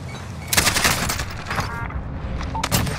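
Gunfire in the Warzone video game on Rebirth Island, rapid bursts of automatic shots cracking loud and close in quick succession, with a pause before another volley.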